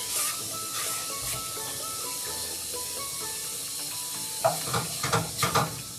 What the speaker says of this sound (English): So we'll add the rest of these onions.